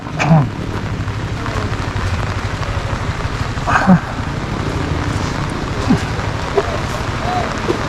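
Rain falls steadily outdoors during a walk, a continuous hiss with occasional splashes and faint scattered vocal sounds over it.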